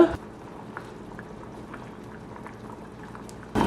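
Black chickpeas boiling in a covered pot of water on high heat, a steady soft bubbling and popping close by, ending with a louder clatter.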